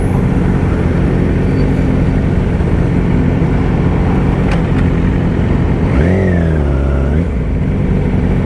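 Cars roar past in steady heavy traffic at a cars and coffee meet, with one engine revving and its pitch rising and falling near the end, loud and continuous.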